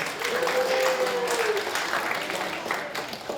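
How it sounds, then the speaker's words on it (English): A crowd at a comedy show applauds steadily, with a brief whistle-like tone rising above the dense clapping early on. "big round of applause to the Royal Poker Club for being late"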